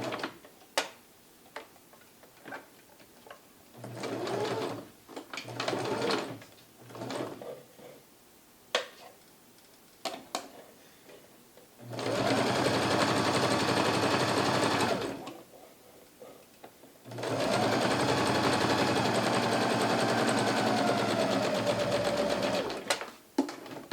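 A sewing machine stitches the seam of a Christmas stocking in short bursts at first, then in two long steady runs, its fast mechanical whir broken by brief pauses.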